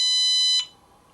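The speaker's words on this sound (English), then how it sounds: "Don't be waving immediately until you hear the initial beep" Lumber Wizard metal detector giving its initial start-up beep after being switched on: a single steady, high electronic tone lasting about half a second, then cutting off, heard alone.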